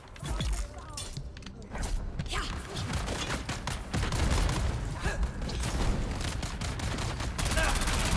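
Gunfire in Dune: Awakening, repeated sharp shots and rattling bursts over several seconds amid mechanical clanks and impacts, moderately loud, with a voice occasionally speaking over the fighting.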